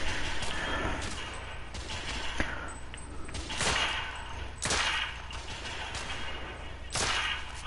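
Gunfire from the PS4 video game The Order: 1886, a string of sharp shots and bursts spaced through the clip, loud and close with a reverberant game soundscape between them.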